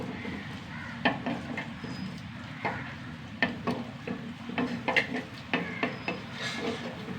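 Onions fry and brown in a pan, with a low continuous sizzle under repeated scraping strokes and clinks as a spoon stirs them in an uneven rhythm.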